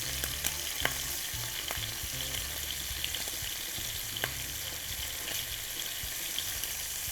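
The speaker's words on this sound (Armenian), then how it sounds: "Մի կողմը տապակում ենք, հետո դարձնում ենք մյուս կողմ։" Shrimp sizzle steadily in a hot pan for shrimp pasta, a dense continuous frying hiss broken by occasional clicks and light scrapes as the pieces are turned over, close and without talk.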